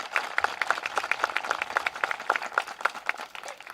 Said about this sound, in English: so please clap it up for them